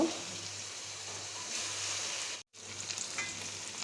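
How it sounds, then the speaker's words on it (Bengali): Prawns sizzle steadily in hot oil in a pan with onion and green chillies as they are turned over, with a brief break in the frying sound partway through. "উল্টিয়ে পাল্টিয়ে চিংড়ি মাছগুলো একটু ভেজে নিব"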